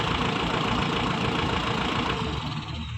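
Vehicle engine idling just after being started, a loud, close, steady rumbling churn with slight knocking texture that holds throughout and eases a little at the end.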